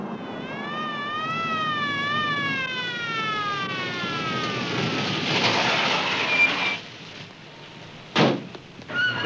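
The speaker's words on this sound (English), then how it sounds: "Did you hear that siren?" A wailing siren sweeps up and down in pitch, loud and steady, then fades as a couple of heavy thumps sound near the end.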